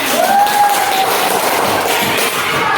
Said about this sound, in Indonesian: Pak, bisa tepuk tangan